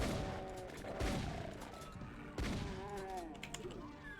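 Chaingunner enemy in Doom firing its chaingun, loud rapid bursts of gunfire with booming impacts, two heavy blasts standing out amid the clatter.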